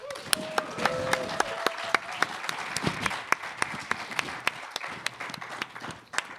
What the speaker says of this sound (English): Everyone give me a round of applause.